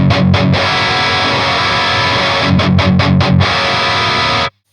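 An electric guitar roars through a Friedman BE-100 Deluxe amp with the response switch in the middle position, playing a few choppy muted stabs, a long ringing distorted chord, then more staccato chugs before stopping abruptly.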